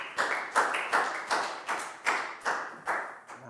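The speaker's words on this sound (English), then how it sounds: "Big round of applause for Nadia" A Year 4 class claps together in a steady rhythmic beat, about nine firm, even claps filling the classroom.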